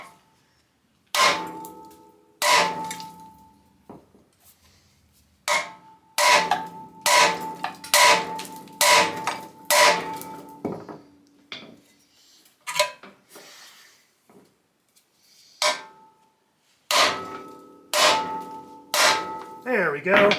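Strong hammer blows strike an MGB subframe to pop a tapered press-fit ball joint loose, ringing metallic clangs landing in irregular bursts of several hits with short pauses between, loud and close with no talking.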